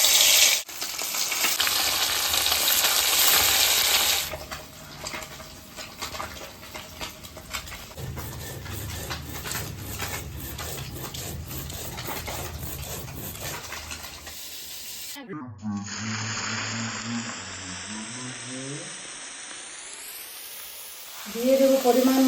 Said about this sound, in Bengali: কড়াইয়ে তেল গরম হয়ে গেছে, আমি মাছগুলোকে ভেজে নেব।